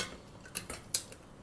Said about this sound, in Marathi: उकळी आल्यावर झाकण लावायचं कुकरचं